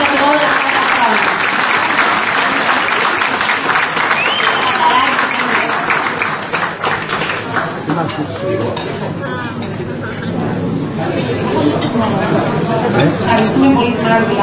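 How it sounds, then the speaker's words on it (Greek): Applause from an audience at an award ceremony honouring a recipient, steady and fairly loud throughout, with some clinking of dishes and cutlery and a voice speaking over it. "Ένα χειροκρότημα την κυρία Μαρία"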